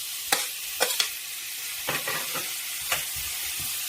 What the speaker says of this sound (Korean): 냄비가 준비되어 있으면 이제 여기다가 돼지고기를 먼저 넣어줍니다.